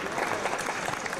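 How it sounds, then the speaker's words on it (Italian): An audience at a poetry reading gives a poet a round of applause, a dense, steady wash of many people clapping, full and continuous throughout. "Per l'applauso del nostro pubblico, Giancarlo Prato, Solitudine."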